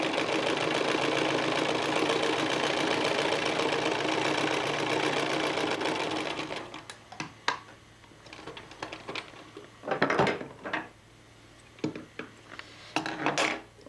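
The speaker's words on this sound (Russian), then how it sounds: "Кладем ткань под лапку, опускаем иголку, опускаем лапку и выполняем строчку." A sewing machine runs a continuous stitching burst for about six seconds while sewing a double seam in fabric, then stops, leaving scattered clicks and handling knocks nearby.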